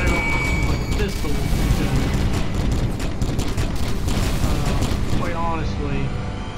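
Explosions in the video game Warhammer 40k: Kill Team boom and crackle amid dense, continuous action noise and gunfire-like bursts, with a voice talking underneath throughout.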